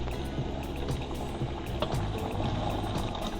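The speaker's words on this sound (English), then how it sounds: "it's time to add the boba babies in the water" Boba pearls dropped into a pot of boiling water, a continuous close bubbling and watery churn with small splashy plops.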